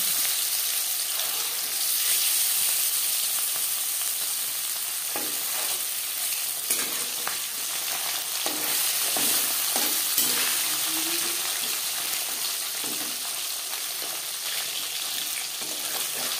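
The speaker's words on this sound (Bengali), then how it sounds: "4 চামচ রিফাইন্ড অয়েল গরম করে নেওয়ার পর দিয়ে দেবো ম্যারিনেট করে রাখা মাছ।" Marinated bata fish sizzling in hot refined oil in a pan, a loud steady crackling hiss with occasional stirring scrapes and bubbling bursts, continuous and close, with no voices.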